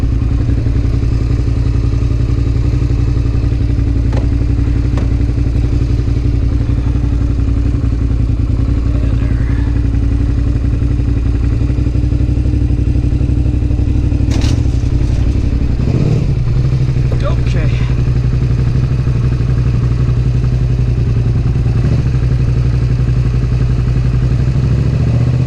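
A motorcycle is ridden up into a pickup truck, its engine running loud and close with a steady low rumble, then a clattering thump and a drop in pitch about two-thirds through before it settles into idle.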